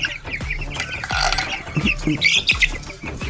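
Chickens cluck and chirp repeatedly at close range, with several short calls overlapping against a busy outdoor background.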